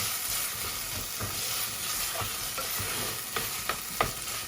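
Onions frying in a pan for an Eid dish, giving a steady close sizzle with faint stirring scrapes and a few sharper clicks toward the end.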